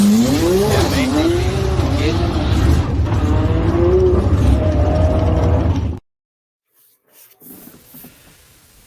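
Factory-built race cars in a racing video game roar past with whining, pitch-sweeping engines and tire squeal for about six seconds, then cut abruptly to near silence followed by faint scattered noise.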